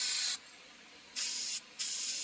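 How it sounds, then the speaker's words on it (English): Aerosol rust treatment sprays inside a car body panel in a backyard repair, with three steady hissing bursts of about a second each and short pauses between them, close and alone. "I'm going to spray the inside of it here"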